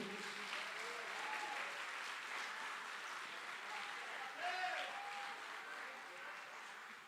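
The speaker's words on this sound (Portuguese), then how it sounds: "Irmão, pode aplaudir" Steady applause from a church congregation during a sermon, a continuous even patter of many hands at moderate distance, with a voice speaking faintly underneath.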